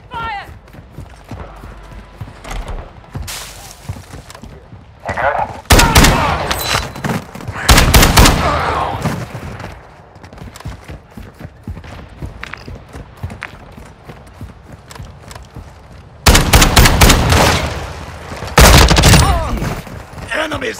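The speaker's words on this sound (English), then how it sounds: "I'm taking fire." Gunfire in the Call of Duty: Modern Warfare 2 DMZ game, loud bursts of automatic fire in several clusters with quieter scattered shots between, over in-game radio voices.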